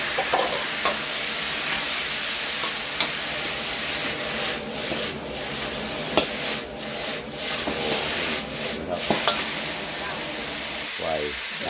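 Holy basil is stir-fried dry in a pan over a strong flame on a gas stove, giving a continuous loud sizzle with scraping and stirring of the pan and occasional clinks of the utensil.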